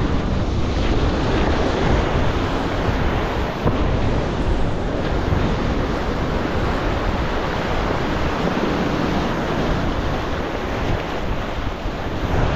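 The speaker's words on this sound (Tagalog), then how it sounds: "Ang lakas ng alon niya, ang lakas ng agos." Strong sea waves and current surge and churn continuously near Didicas Volcano, with heavy wind buffeting the microphone and no pause in the roar throughout.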